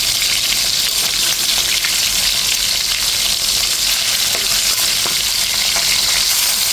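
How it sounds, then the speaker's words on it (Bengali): Rohu fish lightly frying in a pan sizzles loudly and continuously with a steady hiss and scattered crackles, heard close up without talk. "হালকা ভেজে নেব, কড়া করে ভাজবো না, হালকা ভেজে তারপরে রান্না করে নেব।"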